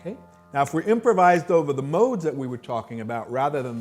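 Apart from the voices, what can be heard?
None of the usual background noises is heard.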